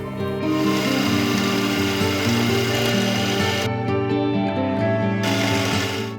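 A machine tool cuts aluminium for a 150cc four-stroke race engine, giving a loud, steady tonal whine with layered harmonics and small stepwise pitch shifts, running continuously throughout.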